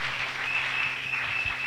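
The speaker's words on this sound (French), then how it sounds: "Acclamons le Seigneur Jésus" A church congregation at a Sunday worship service applauds together, a steady dense wash of clapping that stays loud and even throughout, with no voices rising above it.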